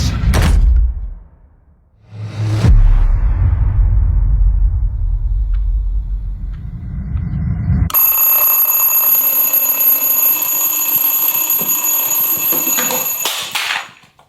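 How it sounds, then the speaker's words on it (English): After a couple of dull thumps, a shrill electronic alarm clock starts ringing loudly and continuously, its piercing tone holding steady for several seconds before stopping. "The alarm is so stressful."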